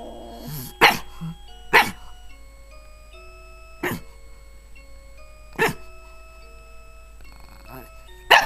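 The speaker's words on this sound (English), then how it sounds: "you're a pug. You're not supposed to be making these noises." A pug makes a few short, sharp coughing bark-like noises at irregular intervals, with a ringing chime-like tone sustained in the background.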